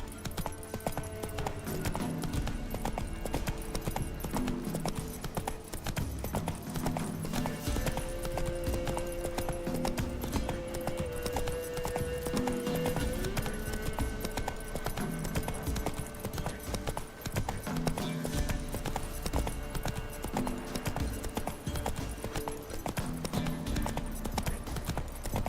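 Roach, Geralt's horse in The Witcher 3, gallops with a continuous, rhythmic clip-clop of hooves over an ambient game music bed, steady and close throughout, with no speech.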